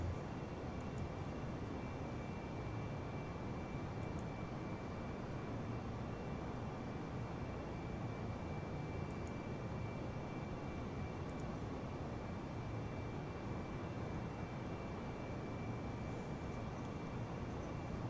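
The engines of an Airbus A320 in a flight simulator game make a steady, unbroken roar with a faint high whine, constant and moderately loud for the whole stretch, with no talk over it.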